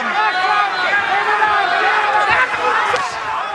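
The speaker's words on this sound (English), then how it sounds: "Crowd really into it here at the Aladdin." A boxing crowd at the Aladdin roars steadily in a big arena, a broad sustained cheer under a commentator's voice that swells slightly near the end.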